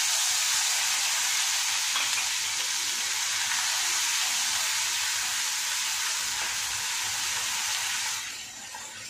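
Spice paste hisses and sizzles steadily in hot oil with cumin seeds, close and fairly loud, while potatoes and peas are being made, easing off slightly near the end.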